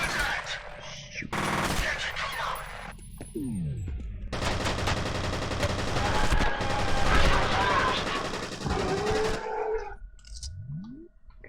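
Rapid automatic gunfire in F.E.A.R. runs in long loud bursts with short pauses and sweeping electronic tones between them, while a voice speaks during the firefight.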